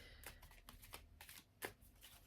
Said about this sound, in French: Je suis en train de tirer les cartes en même temps